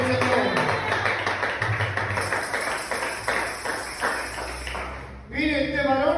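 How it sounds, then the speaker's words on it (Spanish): A church congregation claps loudly together, a dense rhythmic patter of many hands that keeps on throughout, with a brief dip near the end before the applause swells again. "¿Cuánto le dan fuertes aplausos al Señor?"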